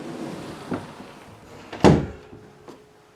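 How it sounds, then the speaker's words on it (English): An indoor door swings shut with a single solid thump, preceded by a lighter knock and followed by a faint rattle, against quiet room background. "Let me just close this door."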